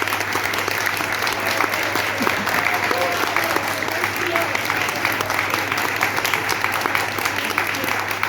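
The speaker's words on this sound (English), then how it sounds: "I would urge you to give a round of applause to our speakers." Audience applause for the speakers after a documentary screening and panel on Julian Assange, steady loud clapping for about eight seconds over a low constant hum.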